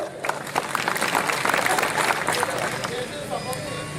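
Audience applause at a Mewari-language comic poetry recital, a steady wash of clapping from a sizeable crowd with a murmur of voices mixed in, close and fairly loud throughout.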